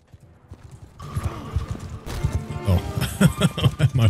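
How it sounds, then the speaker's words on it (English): A horse gallops in the medieval battle game Mount & Blade 2: Bannerlord, fast, loud hoofbeats building in intensity over the din of a cavalry charge, with a whinny in the mix. "My horse just face planted into a tree."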